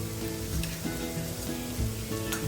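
Turmeric, red chili powder, homemade black masala, cumin and coriander powder sizzling as they are sautéed in a pan for egg bhurji, a steady, quiet frying hiss with no talk.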